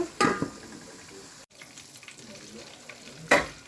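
A coral fish head sautés in a pan with a constant, close sizzle of frying, broken by two sharp scraping bursts of stirring near the start and end.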